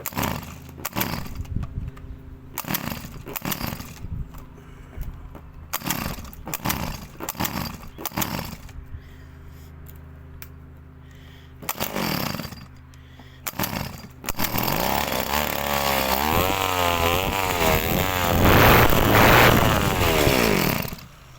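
An Iseki Shindaiwa DYB 190 brushcutter fitted with a 10 mm Chinese carburettor and air filter fires in loud, close, choppy revving bursts with brief pauses, then holds a sustained full-throttle scream.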